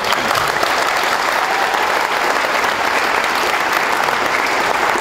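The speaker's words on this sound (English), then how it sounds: "Let's hear it for Destry Abbott." Sustained applause from a large crowd at a WORCS off-road racing team rider introduction, steady and loud throughout, with dense clapping and no pauses.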